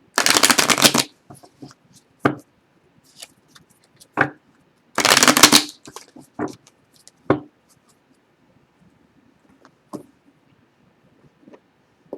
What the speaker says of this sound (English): So I just want to get all of the decks shuffled before we begin.